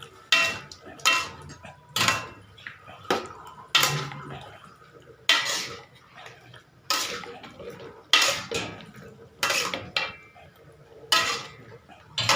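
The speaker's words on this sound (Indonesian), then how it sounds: "Saya aduk lagi." A spoon stirring spicy rica-rica in a pan, heard as repeated loud scraping and clanking strokes in an uneven rhythm with brief wet sloshing between them, close up, with faint background voice.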